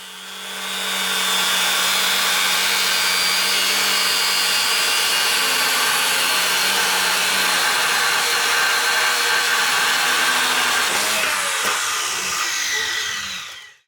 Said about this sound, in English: Now I'm cutting the legs.